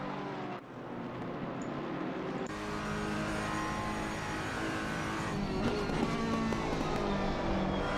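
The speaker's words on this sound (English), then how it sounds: "You could hear the front tyres scrubbing as he's turning the wheel of the Mercedes" A Mercedes GT3 race car in a PC racing game at Zandvoort, its front tyres scrubbing through a turn over a steady engine drone, with other cars and track ambience audible around it.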